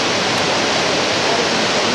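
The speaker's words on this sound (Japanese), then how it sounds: "これは全部滝の水がここにこんな感じで雨みたいになってる。" Heavy waterfall spray raining down nearby, a dense, steady broadband hiss and roar of falling water that stays loud and constant throughout with no voices.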